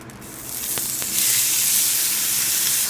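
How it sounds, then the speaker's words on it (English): Beef with soy sauce hits a hot pan and sizzles loudly at close range, with two sharp utensil clinks and a hiss that swells and then holds steady. "it wouldn't be called a stir fry if you don't stir and fry"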